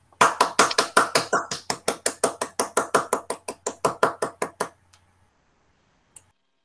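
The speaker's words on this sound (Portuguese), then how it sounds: "os nossos aplausos." Applause for new university graduates at a graduation ceremony comes as a steady, evenly spaced run of about two dozen crisp claps. It stops abruptly near the five-second mark, followed by near silence and one last isolated clap.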